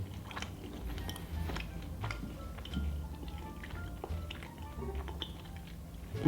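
Bites and chewing of a coconut dark chocolate Kind bar, close and fairly quiet, with soft crunchy chomps spread through the clip and a few murmured sounds of approval.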